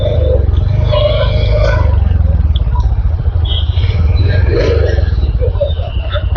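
Royal Enfield Hunter 350 motorcycle ridden through traffic, its engine rumbling steadily and loudly throughout with road noise, while a rider talks over it.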